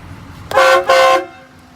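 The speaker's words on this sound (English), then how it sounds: "Ready for the horn? Who's ready for the horn?" Two short, loud blasts from the horn of a lifted 2011 Chevrolet Silverado 2500 LTZ Duramax 4x4 pickup, heard close up and back to back, over a quiet idling background.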